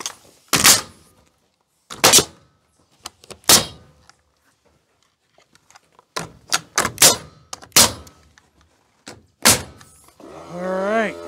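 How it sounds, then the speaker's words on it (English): Hammer blows drive nails into the wooden trim of a homemade rabbit hutch door, sharp knocks coming singly and in quick irregular bursts with quiet gaps between, close and loud, followed by a dog whining at the end. "let's nail it in"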